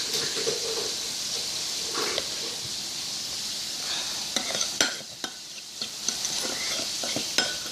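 Turkey wings being stirred and mixed with lime juice in a bowl, a steady wet squelching and sloshing with scattered soft clicks against the bowl, close and continuous with no talking.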